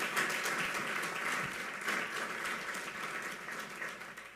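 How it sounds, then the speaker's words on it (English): At a State of the City address in Cincinnati, a large audience claps in a full, continuous ovation that stays strong throughout and eases only slightly toward the end. "Please give them a round of applause."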